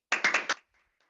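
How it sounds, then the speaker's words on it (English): Four quick, close hand claps in a short rhythmic burst, loud and dry, followed by near silence with a faint trailing tap. "Let's have a nice round of applause for David Noble and In Good Health"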